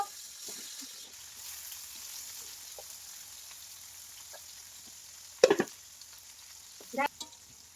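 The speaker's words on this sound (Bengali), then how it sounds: "তো পেঁয়াজটা একটু আমি ভেজে নেই" Onions frying in a pan sizzle softly and steadily at low level, with two brief sharp utensil clatters near the end.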